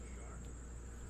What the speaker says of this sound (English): Oh, you might be the AC that you're hearing,